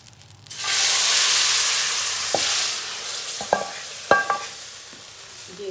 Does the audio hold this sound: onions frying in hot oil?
yes